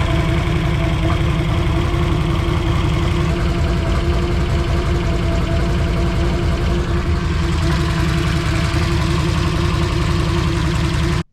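A 2021 Can-Am Outlander 850 ATV engine idles steadily just after an oil change, a close, continuous low rumble with a faint knocking texture that holds even throughout before cutting off at the very end.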